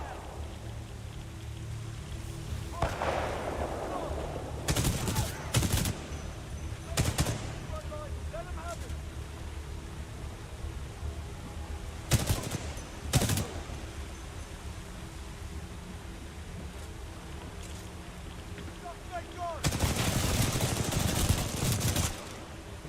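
Mech guns fire in the video game Titanfall 2 in several loud bursts, with short volleys spread out over time and a longer barrage near the end, over steady battlefield noise.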